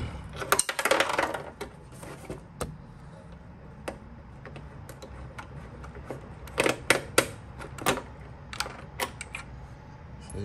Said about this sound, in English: you can see the nut fall down in here